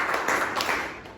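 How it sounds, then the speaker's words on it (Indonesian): Classroom applause for a student presentation group at a microteaching session, a short burst of dense clapping from a small group filling the room, fairly loud and steady before tapering off. "Berikan tepuk tangannya."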